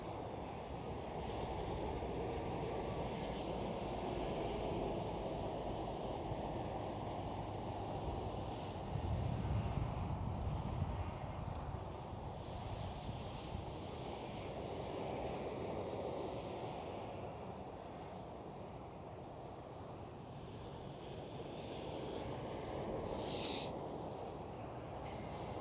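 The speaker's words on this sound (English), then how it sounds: "Transavia 737 landing on the center runway." A Transavia Boeing 737 landing on the center runway at Amsterdam Schiphol, heard as a steady, fairly distant jet roar mixed with wind noise, continuous throughout with a slight swell midway.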